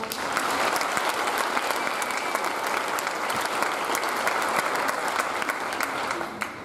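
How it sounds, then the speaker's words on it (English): An audience at a school spring band and choir concert gives a sustained round of applause, dense even clapping at a steady level throughout with no talk over it. "Give those two a round of applause."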